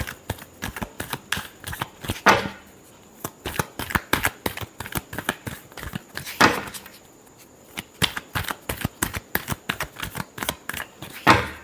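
Tarot cards shuffled by hand up close, giving rapid crisp riffles and taps in quick clusters, with a few longer sweeping riffles between them and no voice.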